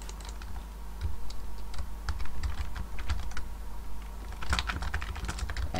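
Rapid, clattering keystrokes on an old computer keyboard, close and continuous with irregular rhythm and a busier flurry near the end, with no talking.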